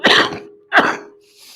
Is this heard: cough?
yes